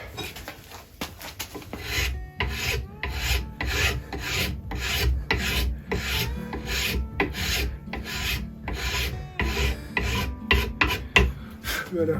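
A wood rasp files a wooden plane handle in long, regular rasping strokes, close and loud, repeating steadily for about a dozen seconds with no voices.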